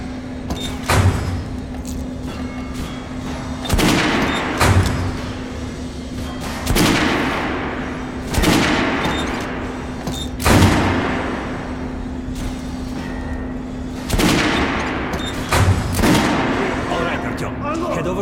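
Gunfire at a shooting range in the video game Metro Last Light Redux: several loud, sharp shots spaced a few seconds apart over a steady low hum, with voices heard between the blasts.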